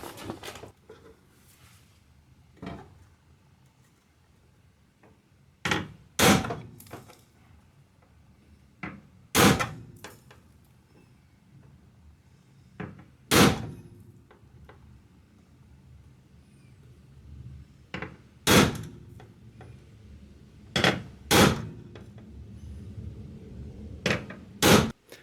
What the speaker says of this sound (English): I need to just hit them with this little center punch